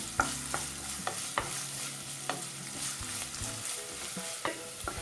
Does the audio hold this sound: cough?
no